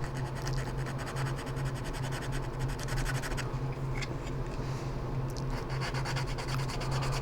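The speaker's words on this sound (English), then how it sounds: "Then you can take either, I really like these Flexifile sanding sticks." A Flexifile sanding stick rubs steadily across a small plastic part from a 1/25-scale AMT 1962 Thunderbird model kit, a close, continuous dry scratching with quick back-and-forth strokes and no talking.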